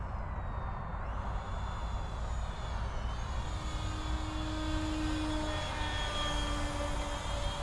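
E-flite Viper 64mm electric ducted fan RC jet flying slowly overhead with full landing flaps, a steady whining fan drone with shifting pitch as it passes at moderate distance, no talking.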